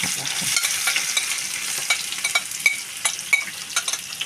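Onion frying in a pan for a chicken, liver, gizzard and rice stuffing, a close, crackling sizzle with irregular popping and stirring clicks, no voices.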